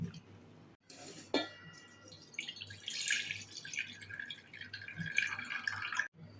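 Wheat rava and urad dal being rinsed in water in a kitchen vessel, with soft splashing and trickling and a few light clinks of metal over a steady low background hum.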